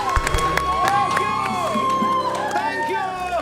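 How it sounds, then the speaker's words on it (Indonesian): A talk show studio audience cheers and applauds in a short, lively burst, with whoops and shouts over clapping while a host speaks. "tepuk tangan untuk Chris"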